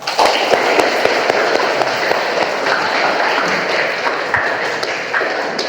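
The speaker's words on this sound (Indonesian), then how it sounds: "Kasih tepuk tangan untuk mereka." Students in a ninth-grade math classroom clap for a presenting group, giving loud, continuous applause with scattered sharp claps standing out throughout.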